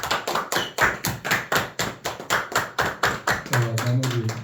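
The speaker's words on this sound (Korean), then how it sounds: "자, 박수 쳐주세요." Church congregation clapping during a Sunday service, a strong rhythmic unison clap repeating evenly and close, with a voice speaking over the final beats.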